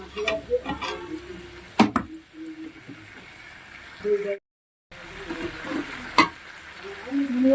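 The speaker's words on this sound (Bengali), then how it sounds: "সাতটা কাঁচা লঙ্কা বেটে রেখেছিলাম সেটা দিয়ে দিচ্ছি দিয়ে ভালো করে মাংসের সঙ্গে মিশিয়ে কষাতে হবে ভালো করে কষিয়ে নিচ্ছি দেখো" Meat frying and being stirred in oil with ground green chilies, soft sizzling and scraping with intermittent clinks of a utensil, close and moderate, pausing briefly partway.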